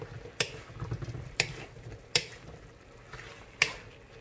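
Spoon stirring chayote and upo in a pan, a few sharp scraping clicks against the metal at irregular intervals over a soft background rustle.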